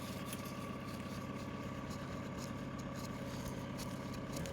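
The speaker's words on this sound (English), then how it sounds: "And the engine is turning good." A car engine idles steadily with a low, even rumble and faint mechanical ticking throughout, quiet and continuous with no revving.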